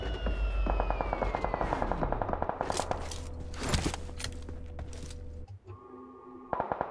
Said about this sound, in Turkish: Mecidiyeköy sakin derken okul tarafından bir el silah sesi.